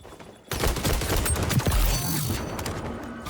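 Marksman rifle fire in the shooter game XDefiant, a sudden burst of loud rapid shots starting after a quiet moment and continuing as dense gunfire with battlefield clatter.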